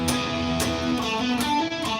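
An electric guitar plays a riff as a fast, driving, distorted figure of repeated chugging notes, moderately loud and close, with no one speaking.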